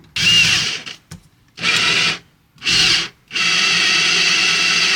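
Power drill with Inox drill bits boring into a stuck screw on an FT-897 radio, three loud close whining bursts separated by short pauses, then a long steady grinding run.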